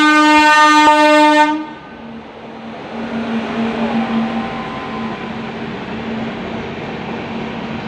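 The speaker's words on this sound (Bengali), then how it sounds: "হ্যাঁ, একটা ট্রেন গেল, আরেকটা ট্রেন যাইতেছে।" A train horn blares loudly at the start of a train journey from Kolkata to Agra, then cuts off as a passing train's steady rumble and rail noise continue close by to the end.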